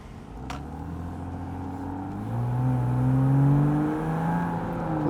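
A Porsche Boxster 987 accelerates from nearby, its engine note rising steadily through the revs in a smooth, building whine that swells toward the middle and eases slightly at the end.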